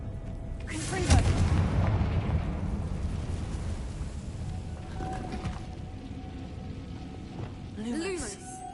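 A Confringo fire spell explodes in the video game Hogwarts Legacy with a deep rumbling boom that rolls on over a low ambient bed, followed by magical whooshing sweeps near the end.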